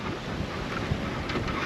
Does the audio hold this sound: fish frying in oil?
no